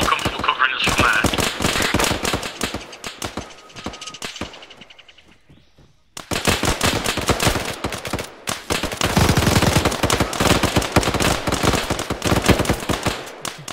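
Rapid automatic gunfire in the video game Arma 3 during an assault on a militia cache, dense crackling bursts that pause and dwindle before resuming louder and sustained, near and intense.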